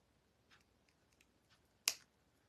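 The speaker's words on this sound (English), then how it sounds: "These are really crappy scissors." One crisp, sharp snip as cheap scissors cut through fine jewelry wire during a craft project, a single isolated click over a quiet, faintly noisy background.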